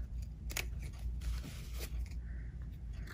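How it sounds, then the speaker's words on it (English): Pinking shears snipping fabric for a sewn stocking-shaped zipper pouch, a few crisp close cuts in quick irregular succession over a quiet background. "This way you can trim it down to that 1/4 of an inch. And your pinking shears will help those curves lay nicely."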